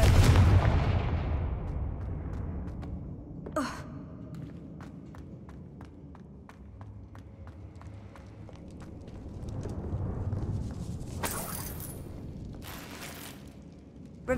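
Confringo blasting spell explosions in the video game Hogwarts Legacy, starting with a heavy low boom that rumbles away, then a sharp crack and scattered thuds, with a second blast swelling toward the end.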